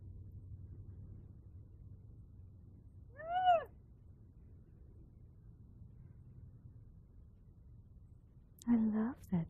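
A cat gives two short meows several seconds apart, close and clear over a quiet, low background hum.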